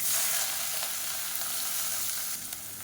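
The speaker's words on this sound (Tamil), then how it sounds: "இப்போ பாருங்கள் வெங்காயம் பூண்டு நல்லா வதங்கிருச்சு" Onions, garlic and dried red chillies frying in hot oil, a dense, bright hiss of sizzling that fades slightly toward the end, heard up close with no talking.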